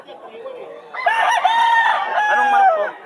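A rooster crows loudly and close at a Bulacan pet market, one long drawn-out crow rising and holding for about two seconds, with faint market murmur beforehand.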